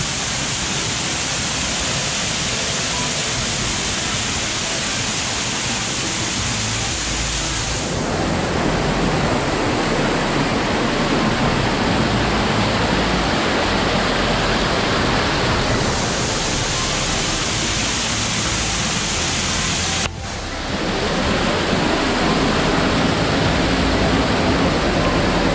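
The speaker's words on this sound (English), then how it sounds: "Here we are, guys. We're behind a waterfall." A waterfall roars steadily at close range, a dense, constant rush of falling water that barely changes over the whole stretch.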